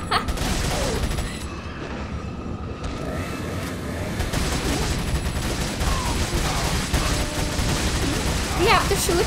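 Heavy, dense gunfire from the Resident Evil 4 game, with sustained bursts and booming shots filling the whole stretch, while a player shouts and talks excitedly over the din.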